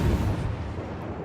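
Heavy cruiser gun salvos in a naval warfare video game, a dense, rumbling low boom that fills the short stretch without pause, loud and close with no talk over it.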